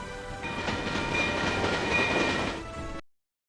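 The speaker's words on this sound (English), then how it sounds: "The train goes through the tunnel." A train rumbles steadily through a tunnel, a dense, continuous roar with faint tonal whines, close and loud for about three seconds before cutting off.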